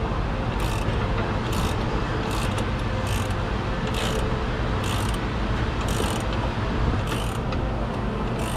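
A 19 mm wrench works a bolt on a 2007 Chevrolet Silverado 6.6L Duramax pickup, producing repeated ratcheting clicks in short bursts roughly every second over a steady workshop hum, close and fairly loud, with no talking.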